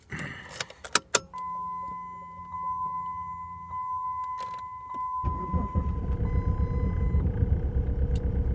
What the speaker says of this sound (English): let's go ahead and start the car